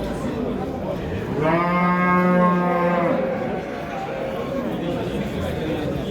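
At a livestock bazaar, a single cow lets out one long, loud moo of about two seconds over constant crowd chatter and distant voices.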